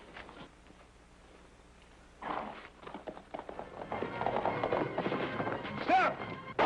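Horse hooves clop and scuffle nearby, growing louder and busier toward the end as people talk over them.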